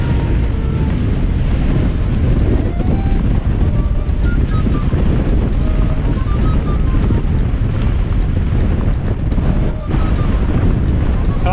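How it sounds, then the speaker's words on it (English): Strong gusting wind roars across an exposed hillside in the Black Mountains on a mountain-bike ride, loud and continuous, battering the microphone for the whole stretch with no speech. "It's bloody difficult with this wind."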